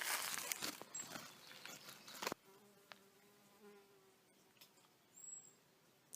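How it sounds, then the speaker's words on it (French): Bees buzzing outdoors while cord is made by hand from plant stems: a faint buzzing drone passes near the listener amid soft rustling and handling noises, with no talk. "ça va être des abeilles là qui me saoulent"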